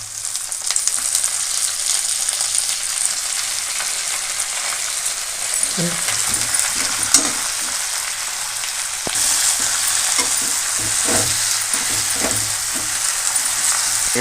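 Sorrel leaves (pulicha keerai) fry and get stirred in a pan, giving a steady, close sizzle with scattered scrapes and clatters from the stirring that run throughout.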